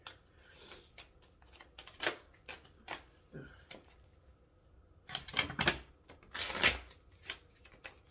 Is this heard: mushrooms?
no